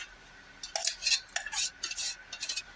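Ground rice and poha dosa batter being stirred in a pot, giving a run of wet scraping and clinking bursts at close range, with no talking.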